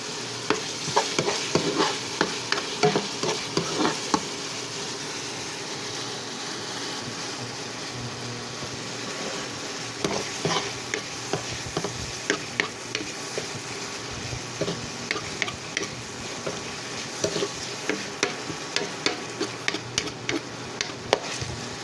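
Bacon sizzling in a pan for carbonara, a continuous hiss of frying fat broken by repeated scraping clacks of a utensil stirring, close and steady throughout.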